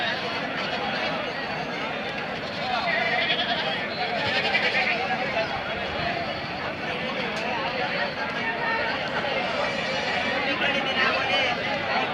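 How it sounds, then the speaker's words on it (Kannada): Goats bleat repeatedly amid a dense, busy livestock market crowd, the animal calls mixed into continuous chatter and nearby talking. "ನೋಡಿ ಮೇಕೆ ಸೆಕ್ಷನ್ನು"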